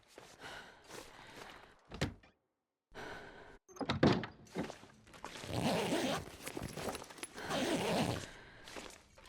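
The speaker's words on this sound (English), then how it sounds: "Nothing in the backpack." Rustling, zipping and rummaging through a backpack while scavenging in The Long Dark on the hardest difficulty, with several sharp thunks and bursts of fabric noise, close and fairly loud, separated by brief silences.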